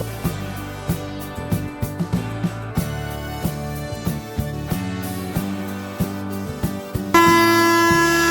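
A passing Karnataka Sampark Kranti Express train clatters with regular rhythmic wheel thumps over the rails, then a loud, sustained horn blares close by at the end.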